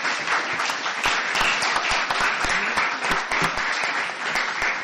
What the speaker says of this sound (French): J'aimerais que nous puissions applaudir nos deux débatteurs.